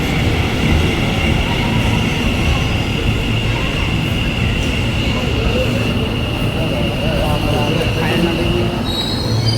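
A loud, continuous rumble of a Gandhinagar–Ahmedabad metro train rolling in, with a high, sustained wheel squeal over the roar.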